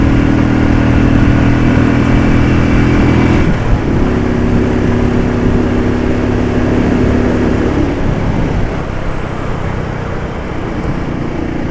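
A Royal Enfield Desert Storm motorcycle pulls hard through the gears, its loud, steady engine drone holding one pitch, dipping at a shift, then rising again, heard close up over wind and road noise with no talk.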